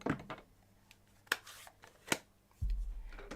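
Paper for cardmaking being trimmed along its top edge, giving a few short, sharp cutting snips spaced apart. A louder rustle of the paper being handled follows near the end. Nothing else intrudes, and no one speaks.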